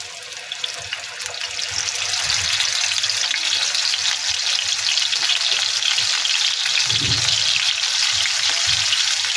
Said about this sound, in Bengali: সবগুলো মাংস ভেজে নেবো ভালো করে, লাল লাল করে।